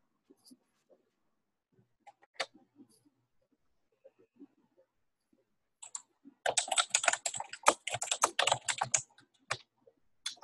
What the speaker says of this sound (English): Yeah, it's me typing.